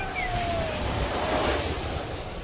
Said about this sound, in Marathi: ही दृश्य आहेत उत्तराखंडच्या रिप्साना नदीच्या भयावह प्रवाहाची